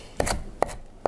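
A knife chops ingredients for spaghetti alla puttanesca on a cutting board, three sharp, evenly spaced cuts ringing out close and clear, with no speech.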